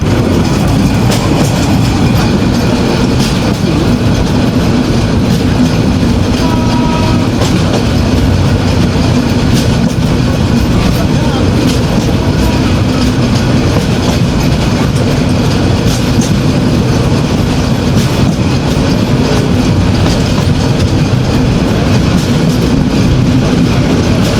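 The Silk City Express from Rajshahi runs toward Dhaka's Kamalapur station with a loud, unbroken roar of wheels and carriages and faint rhythmic clatter throughout.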